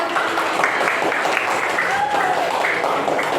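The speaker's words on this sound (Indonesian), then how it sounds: "Tepuk tangan dulu." Classroom audience applause during a coaching session, continuous clapping from a group mixed with voices and chatter throughout.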